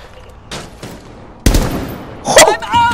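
Gunfire in Rainbow Six Siege: a few sharp, loud shot bursts close by, the strongest near the middle followed by ringing and clatter, with quieter reports earlier.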